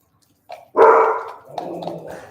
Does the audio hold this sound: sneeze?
no